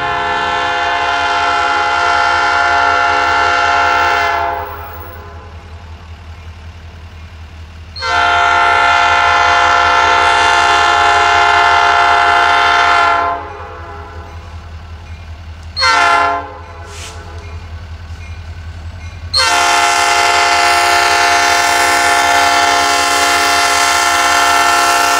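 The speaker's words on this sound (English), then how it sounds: "Watch these trains." A short-line freight train horn blasts in long, loud blows with a short toot between them, over the constant low rumble of a grain, rock and lumber train passing.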